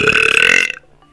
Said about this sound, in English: I get the air in my esophagus for a long continual burp